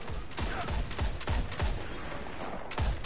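Hand cannon gunfire in Destiny, a rapid volley of sharp, punchy shots in irregular bursts with short gaps between, loud and close with no talk.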